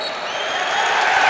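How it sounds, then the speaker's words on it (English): A rowdy Maryland crowd roars and claps at a college basketball game against Michigan, a dense, loud wash of noise that swells slightly over a second and a half. "as you can hear, this Maryland crowd is a little rowdy"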